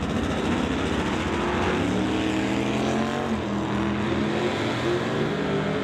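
A wheelstanding Barracuda drag races a Dodge Dart, and close, loud engines roar and rev with rising pitch sweeps and a continuous heavy rumble.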